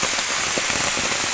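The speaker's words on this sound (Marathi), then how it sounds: "मित्रांनो पाऊस जोरात चालू झालाय" Heavy rain pours down steadily in a dense, loud hiss of drops on surfaces in the Konkan countryside, with no voices.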